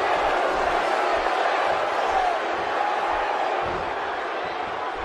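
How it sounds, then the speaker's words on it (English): Arena crowd at a live pro wrestling event reacting to a wrestler, a steady broad roar of many voices that eases slightly toward the end. "The crowd not exactly a fan of Asher, but he doesn't care!"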